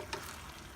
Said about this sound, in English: we're gonna stir this as we cook it